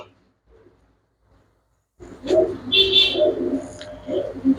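Pigeons at a pigeon seller's stall coo and murmur close by after a near-silent start, soft throaty calls overlapping with a brief higher whistle-like note.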